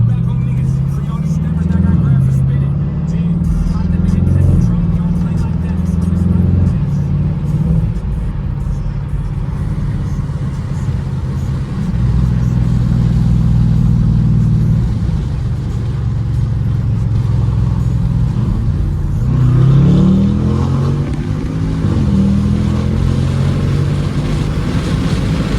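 BMW 550i with catless downpipes and straight pipes, its engine droning and rising in revs from inside the cabin while driving, with voices talking over it.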